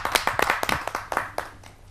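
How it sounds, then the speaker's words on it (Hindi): Audience applause at a Hindi kavi sammelan poetry gathering: a brief burst of clapping from a small crowd, close and fairly loud, thinning out and fading toward the end. "आप सबकी जोरदार तालियों से"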